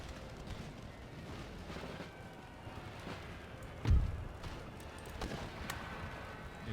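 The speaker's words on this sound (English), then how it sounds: "We're going to silence our own cannon now that they're firing upon us." Cannon and mortar fire on a Napoleonic-era battlefield in Empire: Total War, with distant booms and one louder low thump mid-way amid a steady rumbling battle din.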